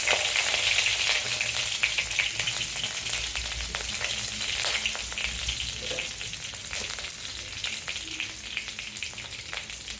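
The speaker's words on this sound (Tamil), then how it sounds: "1 டீஸ்பூன் கடுகு பொரிய ஆரம்பிச்சிருச்சு" One teaspoon of mustard seeds splutters in hot oil in a pan, a dense, constant crackle of rapid pops close up, loud and continuous with no voices over it.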